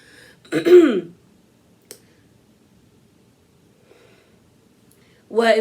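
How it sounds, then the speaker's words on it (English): A single throaty cough or throat-clear sounds up close in an otherwise quiet room, followed by a faint click and then a voice starting at the end. "I keep coughing"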